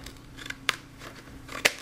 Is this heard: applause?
no